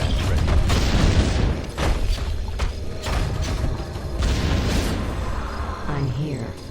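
Warcraft III: The Frozen Throne, Scourge campaign battle with repeated mortar fire and booming explosions. Dense clanking battle noise surrounds them, and unit voices speak over the din.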